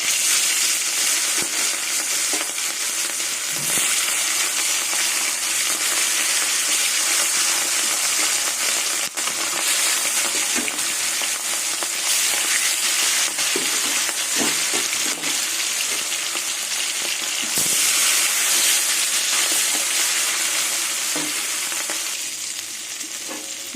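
Pieces of rohu fish fry in hot oil in a kadai, giving a steady, loud, dense sizzle with occasional pops and crackles that runs the whole time, easing off slightly near the end.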